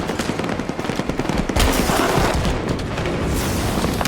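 Loud, close gunfire in a capture-the-flag shooter match: dense automatic rattling mixed with heavier booming shots, continuing without a break throughout.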